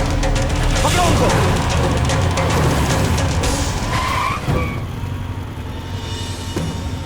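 A car swerves around with tires skidding and squealing during a chase in a Hindi-dubbed South Indian action movie, a loud sustained screech under shouting voices that fades into quieter engine and street noise.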